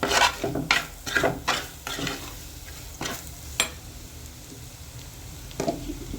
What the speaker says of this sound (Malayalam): ഉപ്പും കൂട്ടി നല്ല പോലെ നമ്മുടെ ഈ മസാല ഇളക്കി യോജിപ്പിക്കാം